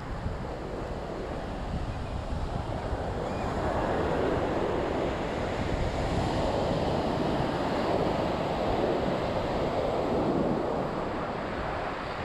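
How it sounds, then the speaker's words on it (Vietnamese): Strong sea waves break on Nha Trang beach, with a steady, loud roar of surf and wind buffeting the microphone throughout, and no voices. "Sóng khá là mạnh vậy."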